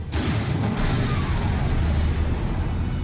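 A gunshot in the video game Tales of Berseria as a character turns a gun on himself: a sharp blast near the start, then a loud, dense rumble that carries on through the rest of the moment.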